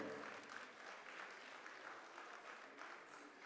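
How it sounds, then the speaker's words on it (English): Audience at a Bharatanatyam classical dance show applauding the comperes, a faint, steady patter of many hands that holds evenly for a few seconds. "Big round of applause for these comparers."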